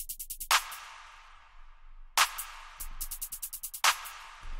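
Quick, crisp hi-hat ticks in rapid rolling bursts, punctuated by three bright splashy hits. Quiet, with no voices.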